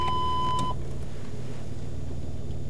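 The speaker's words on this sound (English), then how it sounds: "Once the obstruction is only 35 centimetres away, the beeps become constant" Rover 75 rear parking aid sounding one steady continuous beep tone briefly over low car-interior hum, then fading out to leave only the rumble.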